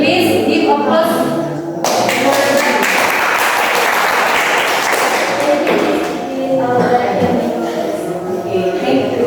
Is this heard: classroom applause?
yes